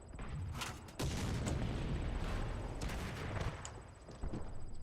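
Tank cannon fire in War Thunder: a run of sharp, heavy blasts with broadband cracks, one big boom near the middle and further shots and impacts in quick succession, loud and close.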